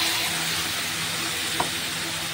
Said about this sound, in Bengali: এবারে দিয়ে দিচ্ছে আদা, জিরে, কাঁচা লঙ্কা, টমেটো একসাথে বাটা